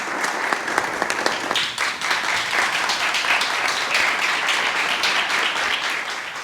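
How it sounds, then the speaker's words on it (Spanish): A roomful of people applauds invited guests at an academic event, steady clapping with a few sharp near claps at the start, continuing evenly without speech. "Yo quisiera que demos un aplauso pues a nuestros invitados."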